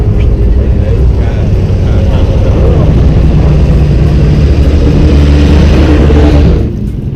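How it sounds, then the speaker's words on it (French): Historic racing cars at Le Mans Classic, with an AC Cobra and Ford GT40 in the field, roar past close by in a loud sustained engine blare that drops away near the end. "on a les voitures de course qui passent juste à côté de nous"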